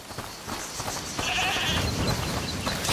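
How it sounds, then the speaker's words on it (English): A goat bleats in the video game A Plague Tale: Requiem, one wavering nasal cry over a quiet game ambience, close and fairly loud. "Is that the goat you talked about?"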